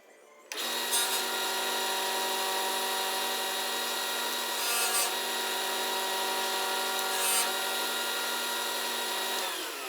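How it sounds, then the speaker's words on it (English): Power sander working wooden picture frame pieces, a steady loud grinding whir that runs almost unbroken for the full stretch after a quick start, with brief rises in intensity as the wood is pressed. "I'm going to sand 2 edges first."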